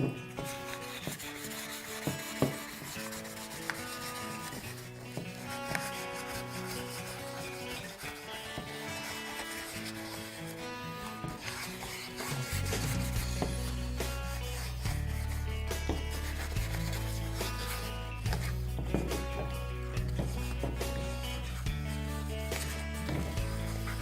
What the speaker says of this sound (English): Now we're going to sand these parts down with some 1000 grit sandpaper.